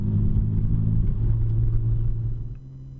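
An R34 Nissan Skyline GT-R rolls over road gratings on the roads of Mount Tsukuba, giving a close, steady low engine rumble that stays even for most of the stretch and then eases off near the end.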